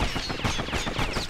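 Dual slinger pistols in Bastion fire a rapid volley of sharp, loud shots in quick succession, each crack following closely on the last with no talk over them.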